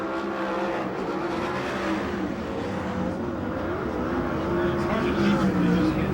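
Ford Focus midget race cars racing at Perris Auto Speedway in California, a continuous roar of several engines revving and droning with shifting pitch, under a race announcer talking throughout.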